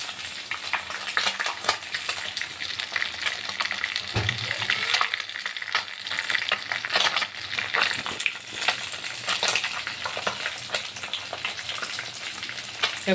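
Fish fries in a pan of hot oil, a dense, continuous crackling sizzle with sharp pops throughout, close and fairly loud with no voices.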